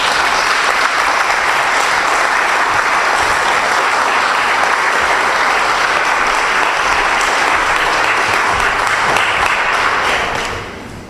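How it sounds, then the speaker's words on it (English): A large debate audience bursts into sustained, dense applause that holds steady at full strength for about ten seconds, then tapers off quickly at the very end; no voices rise above the clapping. "Well, you've all clapped"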